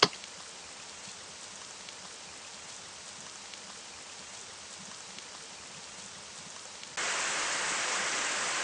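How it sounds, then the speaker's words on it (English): Rain ambience from the video game Stormbreak: a steady, even hiss of rainfall, fairly soft at first and then abruptly louder and brighter for the final second or so. "I had to turn the volume down on the rain a little bit"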